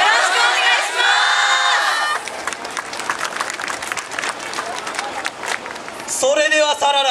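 A festival crowd cheers and shouts for a Kyoto yosakoi dance team, loud and sustained, with a voice calling out over it at the start and again at the end.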